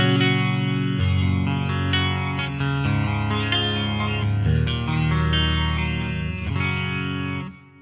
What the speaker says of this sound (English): Next up, the flanger.